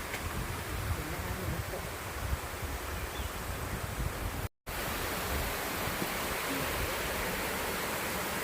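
A small waterfall at a cave temple in Saraburi, Thailand, in the rainy season gives a steady, close, broadband rush of falling water that is briefly interrupted once by a short cut-out.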